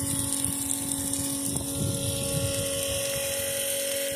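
An outboard boat engine idles steadily in the water during engine work, its even, humming drone running continuously with faint gurgling and splashing around it.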